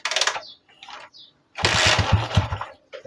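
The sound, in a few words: Honda TMX 125 motorcycle engine starting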